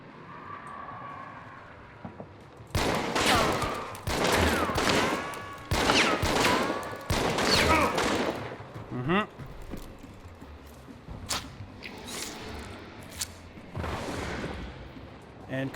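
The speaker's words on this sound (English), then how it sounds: "dual wielding also enables you to employ one more tactic I haven't seen in a long time. And that is to lay down suppressive fire." Dual-wielded guns in the shooter game Hunt fire dense, rapid volleys of suppressive fire in several loud bursts with short pauses between them, and someone talks at times between the shots.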